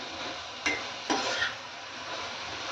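Soaked masoor dal is sautéed in oil, a low steady sizzle broken by two sharp spoon scrapes against the pot in quick succession.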